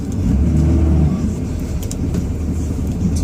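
A 2005 Dodge Ram 2500 diesel quad-cab pickup, used for hauling and snow plowing, idles with a loud, close, low rumble that eases slightly after the first second.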